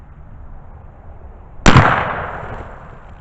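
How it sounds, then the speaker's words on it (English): One sharp, loud gunshot from a 10mm carbine firing a 180 grain jacketed hollow point outdoors, breaking a quiet background and trailing off in a long echoing decay. "So we give this a shot. 180 grain jacketed hollow point."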